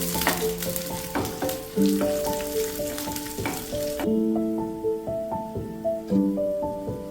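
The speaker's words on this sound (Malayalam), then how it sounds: "വറ്റൽ മുളകും ഒരു 2 തണ്ട് കറിവേപ്പില ഇട്ട് കൊടുത്തിട്ടുണ്ട്." Dried red chillies and curry leaves frying in hot oil for a green gram thoran, a steady close crackling sizzle with bursts of popping and spatter, with no voices.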